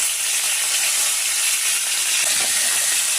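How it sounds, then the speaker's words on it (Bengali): Tomatoes frying in hot oil left from frying fish, a loud, dense and steady hiss and sizzle close to the pan with no voices. "করে টমেটোগুলোও ভেজে নেব।"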